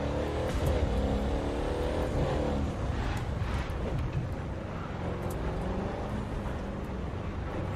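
A car in The Crew 2 drives a winding snowy mountain road with serpentine bends, its engine droning steadily and loudly throughout, the pitch rising and falling slightly through the curves.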